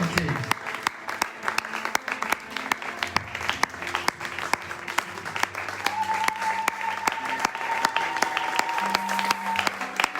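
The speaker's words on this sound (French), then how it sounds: "Est-ce que tu peux te lever pendant qu'on acclame? Acclame bien le Seigneur." A church congregation applauding and cheering, with sustained rhythmic clapping throughout, a held musical tone and voices rising over the crowd.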